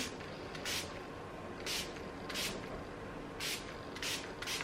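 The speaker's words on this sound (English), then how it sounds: "I love to mist my face" Several short bursts of fine setting spray misted onto a face hiss at irregular intervals over a steady low background hum, fairly close and moderately loud.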